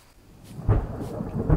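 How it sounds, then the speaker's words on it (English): Video game rainstorm with thunder: a soft bed of rain, then two low rumbling thunder swells in quick succession, close and moderately loud. "It's raining, man."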